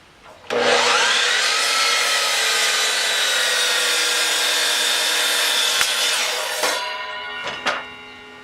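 A power saw whines loudly through wood for several seconds, then winds down with a few clacks and rattles afterward.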